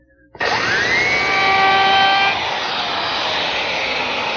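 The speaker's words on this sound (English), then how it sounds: "To smooth up the cut left by the bandsaw, I'm using my belt sander, just taking the line away." A belt sander starts up and whines loudly as it smooths a bandsaw cut on a wooden tabletop, with a steady high motor tone and a grinding rasp that drops slightly once the belt meets the wood.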